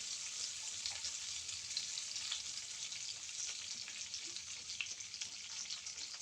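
Olive oil sizzling in a pan while salmon with miso butter is cooked: a steady, faint crackling hiss that runs on unbroken, with scattered tiny pops and no voices over it.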